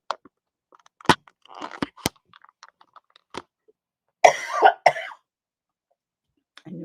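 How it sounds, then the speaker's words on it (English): Several sharp coughs and throat clears, close and fairly loud, scattered across a quiet stretch with small mouth noises between them. "I knew I was going to start coughing today."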